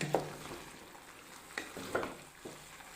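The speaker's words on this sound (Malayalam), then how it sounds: "ചെറിയ സ്പൂണ് വെളിച്ചെണ്ണ ഒഴിച്ച് കൊടുത്തു. ഇനി നമുക്കൊന്ന് ഇളക്കാം." A spoon stirs avial vegetables with coconut oil in a pan, giving several soft scraping strokes spaced about half a second apart over a faint, quiet sizzle.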